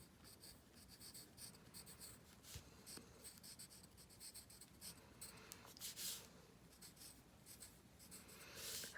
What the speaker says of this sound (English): So you write down words that you do not know.